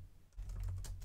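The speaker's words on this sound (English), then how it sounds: "let's keep typing" Keys clacking on a computer keyboard during Rust programming work, a quick run of close taps that grows denser after a brief lull, with no one speaking.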